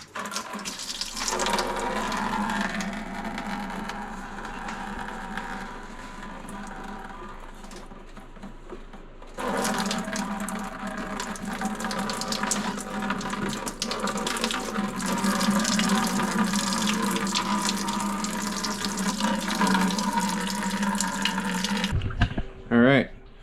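Coolant drains from a hose on a 1999–2007 Chevy Silverado into a bucket, a continuous splashing, trickling pour that runs for most of the stretch, with a person talking at times.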